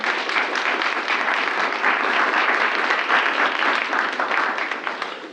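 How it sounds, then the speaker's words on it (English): Audience at a high school Student of the Month ceremony gives a round of applause, a loud, dense, continuous burst of clapping that tapers slightly at the end. "Can we give another round of applause for our students"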